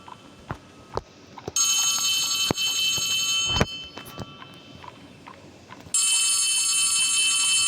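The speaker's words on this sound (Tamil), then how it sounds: "இங்கே ஃபோன் அடிக்குது." Telephone ringing in the horror video game Poppy Playtime Chapter 3: two long, loud bursts of bright, buzzing electronic ringing with a pause between them, over clicks and thuds of in-game movement.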